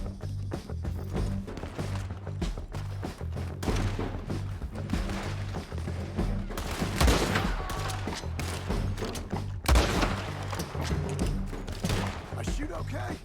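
A Red Dead Redemption 2 shootout on PC, with scattered rifle and pistol shots cracking over a constant battle din, some shots loud and close, others farther off, while voices speak through it.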